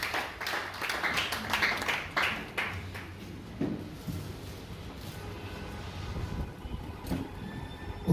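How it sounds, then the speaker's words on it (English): Applause from an award ceremony audience, a dense, steady wash of many hands clapping that swells early and then settles into a continuous patter heard from a distance, with a few sharper claps standing out. "Round of applause for him, please."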